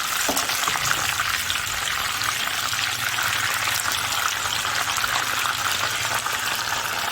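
Chicken pieces frying in a pan for a Chinese-style pineapple chicken dish, a steady, loud broadband sizzle holding evenly throughout with no talking.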